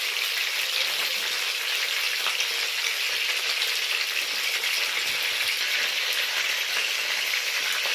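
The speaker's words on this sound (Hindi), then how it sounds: "सरसों के ऑयल में फ्राई करने।" Chicken pieces frying in hot mustard oil give a steady, loud, dense sizzle that holds evenly throughout, with no speech.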